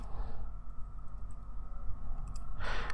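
Keyboard typing while entering R code in a computer lab session, a run of quiet clicks over a steady low background hum, with a brighter burst of keystrokes at the end.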